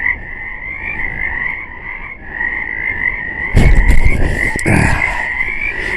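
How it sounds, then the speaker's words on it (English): Chorus of frogs croaking, a dense steady pulsing trill that fills the clip, joined midway by louder nearby rustling or bumping noises. "You hear these frogs? I'm very happy to have frogs."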